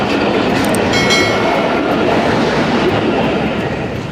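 A train rolls past at a crossing in Faisalabad, apparently bound for Lahore, a loud, steady rumble of wheels and cars filling the whole stretch with faint rail clatter and no break.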